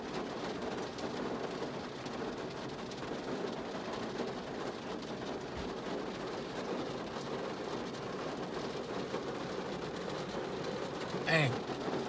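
Rain falls steadily outdoors near a building, a constant close hiss lasting throughout with no pauses and a brief sharper sound near the end.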